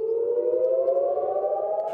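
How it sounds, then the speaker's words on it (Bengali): Air raid civil defense sirens wail in Israel, including Tel Aviv, a steady sustained tone rising slowly in pitch, heard at a distance without any talking. "রাজধানী তেল আবিব সহ দেশটির বিভিন্ন অঞ্চলে দীর্ঘ সময় সাইরেন বাজতেও শোনা যায়।"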